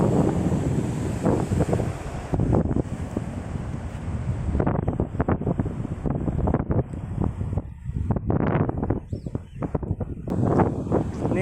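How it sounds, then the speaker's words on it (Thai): Strong wind buffets the microphone in loud, gusty roars on the sea off the Krabi coast, with waves and water sloshing beneath and no clear talk. "ลมแรงจริงๆครับผม"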